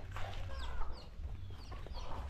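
Dekalb Brown roosters and hens on a farm in Natividad, Pangasinan cluck and call close by, several short bird cries over a low rumbling background.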